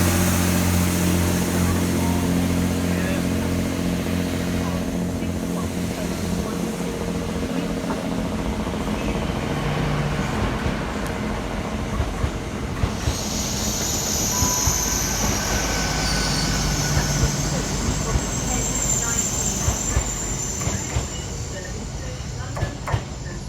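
Great Western Railway Class 802 unit 802 007 pulls into Gloucester station on a Cheltenham Spa to London Paddington service, a loud low rumble of engine and rolling wheels with brake squeals and high whines as it slows to a stop.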